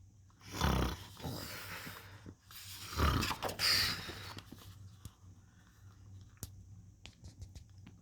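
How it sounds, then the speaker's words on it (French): Snoring in a children's story, a few low rasping breaths rising and falling in slow rhythm, fairly close, followed by quieter scattered sounds. "Mais les ronflements n'invitèrent pas notre flocon à rester"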